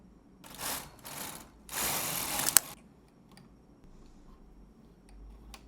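Knitting machine carriage sliding across rows of a dress being knit, two loud broadband sweeps back and forth with a sharp click at the end, then quieter mechanical ticking.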